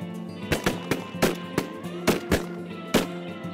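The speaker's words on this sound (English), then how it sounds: "Nice shooting, boys." Volley of shotgun blasts during a duck and goose hunt, around ten sharp cracks fired in quick uneven succession, some close and loud, others lighter, over a low steady hum.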